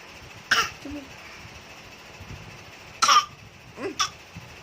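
A person with a cough gives several sharp, close coughs: one burst early, then a tight cluster of rough hacks near the end, with quiet breathing between.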